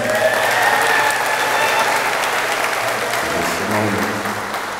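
Audience at a commencement ceremony cheers and applauds for the graduates, a dense, steady roar of clapping and shouting that holds loud for the whole stretch and eases slightly toward the end.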